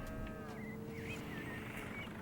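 Cows lowing on a farm in the video game Farming Simulator 22: a few drawn-out, wavering moos over a constant low engine-like hum, quiet and somewhat distant, with no talking.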